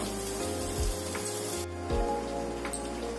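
Raw mango pieces cook in a pan over a low flame, giving a soft, steady sizzle and crackle with a few light stirring knocks and a brief dip in the hiss, no one speaking.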